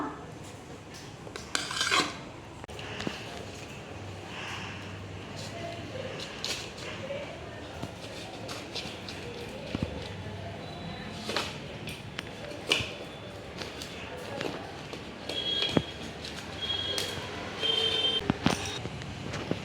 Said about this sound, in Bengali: তো এবার নামিয়ে নিই, নামিয়ে পিস পিস করে কেটে নিই